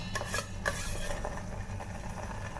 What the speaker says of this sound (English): after some times we'll just give it a fine stir